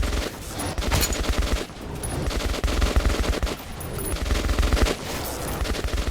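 Rapid bursts of automatic gunfire from the video game Metro 2033 Redux, loud, dense and continuous fusillade with brief pauses between volleys, no speech.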